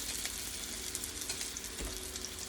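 Chicken dumpling batter drops into hot oil and fries with a dense, steady crackling sizzle, loud and close, with scattered sharper pops throughout and no voices.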